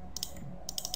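Light typing on a computer keyboard while entering a number in Figma, with a few quick clusters of crisp key clicks at close range.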